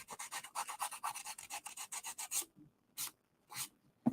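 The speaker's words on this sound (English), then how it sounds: "I always take my sander and just kind of get that line off" A sander rubs along a torn paper edge in quick, even back-and-forth strokes, a close dry rasping rhythm that slows to a few separate scrapes at the end.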